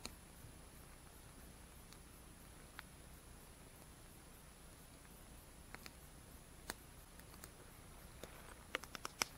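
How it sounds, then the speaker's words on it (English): Rain begins to patter on a camping tent as a storm rolls in over the San Pedro Parks Wilderness in New Mexico's Santa Fe National Forest: faint scattered ticks over a soft hiss, growing denser toward the end. "Starting to rain."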